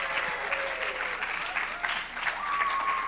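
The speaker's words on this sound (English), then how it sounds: "Come on, give a round of applause," An audience at the Mr. & Miss Hospitality 2019 pageant applauds steadily for about three seconds, a dense wash of many hands clapping in a hall with a faint whistle or tone above it.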